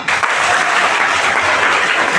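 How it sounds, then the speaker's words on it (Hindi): Loud, dense applause from a large crowd at an open-air political rally or public gathering, steady and continuous throughout with no speech over it. "एक बार जोरदार तालियां।"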